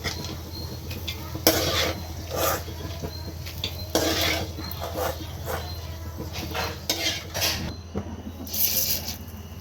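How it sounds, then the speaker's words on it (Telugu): Peanuts tipped into hot oil in a pan for a tempering, a soft ongoing sizzle under a low hum with several clattering bursts of utensils and nuts against the metal, no speech heard. "ఇప్పుడు తాలింపు అయితే వేసుకుందాము ముందుగా అయితే పల్లీలు వేసేసుకుందాము"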